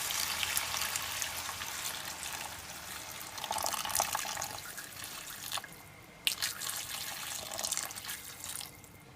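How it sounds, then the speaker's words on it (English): Water pours and trickles into a cooking pot on a stove for a beef stew, a steady, soft splashing stream with drips and small sloshes, close and without talk. "So I'm just gonna pour the water in there."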